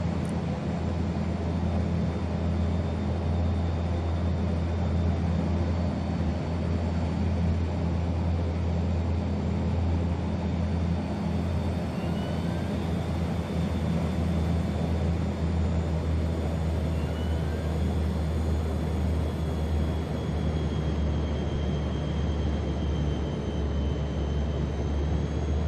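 A NAMC YS-11 airliner on final approach in Microsoft Flight Simulator 2024 produces a steady, loud engine drone with a deep low hum and faint higher whine, continuous throughout with no talking.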